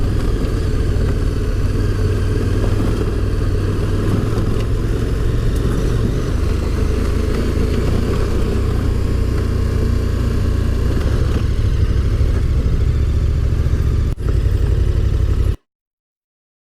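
A motorcycle ridden off-road, its engine droning steadily and loud throughout with slight rises in revs, then cutting off abruptly near the end.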